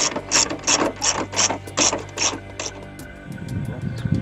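A ratchet tightens bolts on the coils of a Chevy Geo Tracker, with about seven quick, loud clicking bursts in a steady rhythm, then a pause and a softer rustling shuffle.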